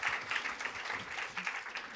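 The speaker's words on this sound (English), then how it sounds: "So round of applause for just being yourself." Steady round of applause from an audience, a dense crackling wash of many hands clapping that holds at an even level for about two seconds with no one speaking over it.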